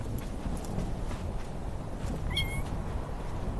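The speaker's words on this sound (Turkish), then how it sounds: "Bu Nur'un kedisi." A cat gives a single brief meow partway through, faint over a rustling background with soft thuds that suggest hoofbeats or footsteps.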